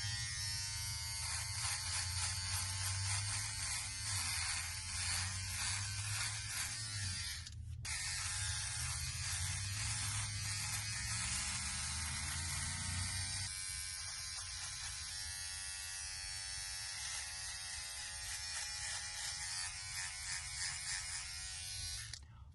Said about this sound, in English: Aside from me finally shaving after weeks